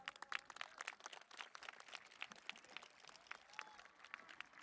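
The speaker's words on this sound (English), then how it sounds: "Let's give them an applause." Faint, distant scattered clapping rises from a high school commencement audience in a large hall as district cabinet members stand to be recognized, individual claps audible within a thin, quiet applause.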